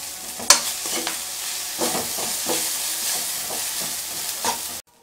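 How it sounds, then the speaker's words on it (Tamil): Wheat vermicelli being stirred in a pan over low flame, with a close, steady sizzle and repeated scraping strokes that stop abruptly near the end. "இப்போ சேமியா சேர்த்து நல்லா கலந்து விட்டுக்கலாம்"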